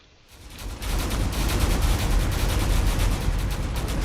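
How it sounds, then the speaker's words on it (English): A dense barrage of gunfire and explosions in the game Drone Wars erupts after a brief quiet start, continuous rapid shots layered over booming blasts. "There's definitely some explosions going on."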